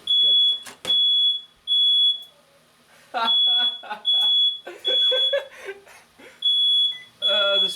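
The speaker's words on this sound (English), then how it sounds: "The smoke alarm's going off." A shrill smoke alarm beeps repeatedly in regular bursts in a kitchen while churros are cooked, with people talking and moving about underneath and between the beeps.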